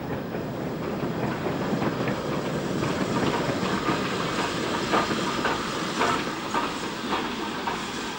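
A train climbing the steep 1 in 60 Parkstone Bank with a tender-first Standard 5 4-6-0 steam locomotive banking at the rear, a steady rumbling roar with hiss and rhythmic clicks of wheels on rail joints, fairly near and continuous.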